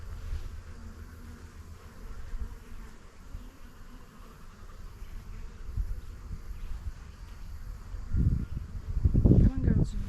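Honeybees buzzing around an open hive while a honey super is being added: a faint, continuous hum of many bees, overlaid by soft handling thumps and rustles that grow louder toward the end.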